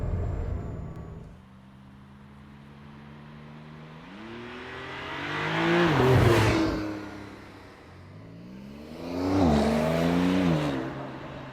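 A Porsche 911 Targa 4S engine revs up twice in sharp, rising blips while double clutching at a roundabout, with smooth rumbling between the surges.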